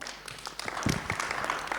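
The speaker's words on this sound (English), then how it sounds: "give a big round of applause to the panel" Scattered applause from a small group at a rail industry conference panel, fairly quiet and short, with a few distinct claps standing out.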